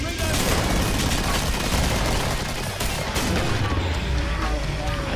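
Rapid gunfire in the Killing Floor video game, dense and continuous over a loud game soundscape, with a voice talking underneath.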